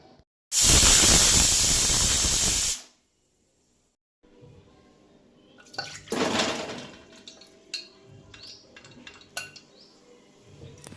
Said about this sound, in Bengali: প্রেশার কুকারে ম্যারিনেট করা মাংসটা সুসেদ্ধ করতে হবে